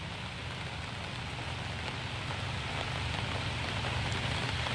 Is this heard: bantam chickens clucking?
no